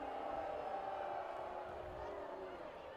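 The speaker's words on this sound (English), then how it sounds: "The crowd not happy with the timeout." A high school football crowd at Northgate at Las Lomas murmurs and calls out in displeasure over a timeout, a distant sustained crowd roar with scattered voices.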